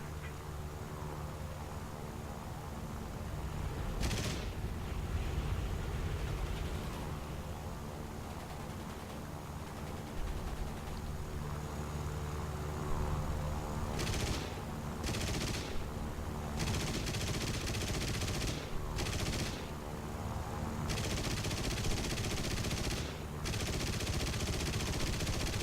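Machine gun and cannon fire from a Yak-7B fighter plane in War Thunder, with rapid bursts of automatic fire in short clusters over a steady engine drone, loud and close, repeating several times.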